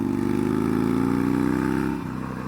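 A 2019 Harley-Davidson Roadster engine idles loud and close with a steady, throbbing low rumble that drops slightly in pitch near the end.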